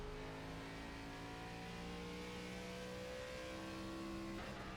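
ARCA race car engine at steady high revs through a qualifying hot lap at Richmond in iRacing, a continuous droning tone that shifts pitch near the end, with no talk over it.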